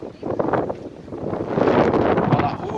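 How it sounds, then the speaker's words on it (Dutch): Strong wind buffets a microphone outdoors, rumbling loudly and unevenly throughout with brief gusts, masking faint background activity. "Oeh, het is hennig wind. Het is hennig wind."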